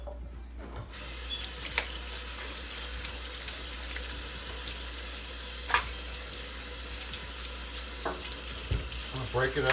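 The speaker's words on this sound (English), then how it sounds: "Rinsing these cauliflowers," Hot tap water runs steadily into a kitchen sink while cauliflower is rinsed and broken into bite-sized pieces, a continuous close hiss with occasional knocks and handling clicks.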